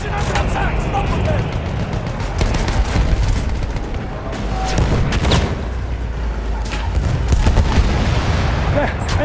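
Enemy machine gun fire in Battlefield 1, with rapid bursts of gunfire and heavy booms crowding a loud, chaotic battle soundscape while voices are heard amid the shooting.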